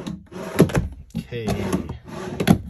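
Wooden closet drawers inside a Wildwood 31KQBTS travel trailer being pulled open and pushed shut, several close knocks, slides and thumps in quick succession, with a brief spoken word among them.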